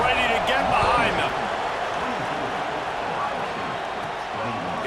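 Steady stadium crowd roar in EA Sports College Football 26 at an Ohio State vs Washington game, swelling slightly at first, then holding as a constant backdrop beneath commentator speech.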